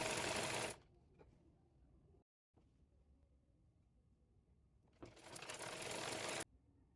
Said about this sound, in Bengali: কামিজটির নিচে পাড় সেলাই করে নেব।